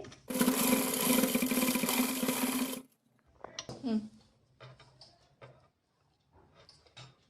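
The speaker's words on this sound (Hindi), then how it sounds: "यहाँ पे सिलाई लगा लेंगे" A sewing machine stitches a girl's Pathani suit in a loud, steady whirring burst of about two and a half seconds, then stops, leaving quieter handling noises and someone speaking.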